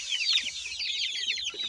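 Domestic chickens cluck continuously in a close, busy chorus, with overlapping soft clucks and chirps in a coop where hens sit on eggs and chicks roam.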